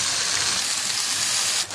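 Jute leaves hit hot oil with onion and dry red chilli in a wok, giving a steady, even sizzling hiss close by, broken by a short stir at the end.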